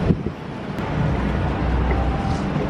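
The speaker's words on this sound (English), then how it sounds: "it is breezy" Outdoor wind in New York City buffets a microphone up close, giving a steady, loud roar and rumble.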